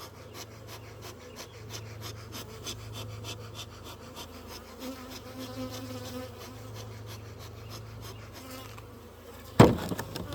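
Honey bees buzzing steadily around a hive being split into a new box, a continuous close drone with a sharp knock near the end.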